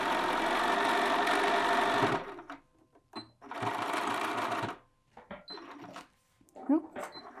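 A sewing machine sews the edge of a cuffed sleeve in two close, busy runs of rapid stitching separated by a brief pause, with small clicks and handling noises in between.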